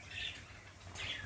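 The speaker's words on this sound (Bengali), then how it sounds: "এই দেখুন আমার পাখিগুলো গম খেতে নেমে গেছে।" Pet birds chirp in two short bursts of high twittering as they come down to feed on wheat, with a low steady hum underneath and no voices.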